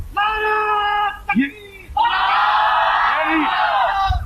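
A large gathering at a religious event shouts a loud, sustained reply to a chanted slogan, with a single voice calling out first and the crowd roaring back in unison.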